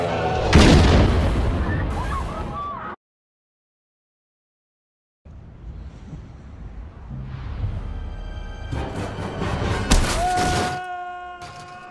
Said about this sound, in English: I think the final notes of the Ode to Joy trigger the bomb.